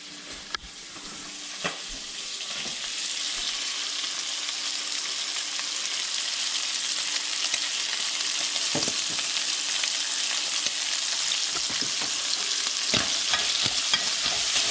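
Bacon frying in a pan for baked beans, a growing steady sizzle with occasional scraping knocks as it is broken up into pieces, with no one talking.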